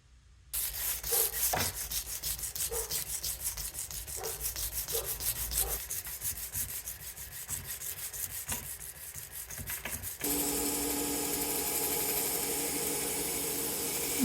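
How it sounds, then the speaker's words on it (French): A Damascus kitchen knife blade is sharpened on a backstand belt grinder, a steady abrasive rasping broken by short scraping strokes, shifting near the end to a louder continuous grinding hum. "Donc là, je fais un aiguisage sur la meule du backstand, ensuite la meule à eau."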